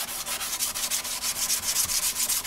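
Steady back-and-forth strokes of a sanding block scuffing degreased motorcycle fairing parts from a Benelli restoration, a dense rhythmic rasp of about a dozen close strokes with no voices.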